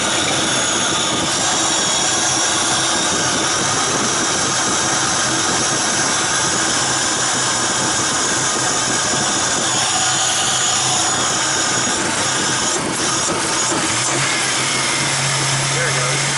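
A Buick Grand National engine idles unevenly with a low, rough rumble that sags and wavers close to stalling, with a voice talking over it.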